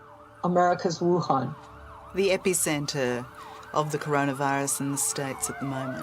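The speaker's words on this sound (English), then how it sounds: "I hear 4 sirens right now outside." Several ambulance sirens wail outside in Manhattan, their rising and falling tones running under someone talking close to the microphone.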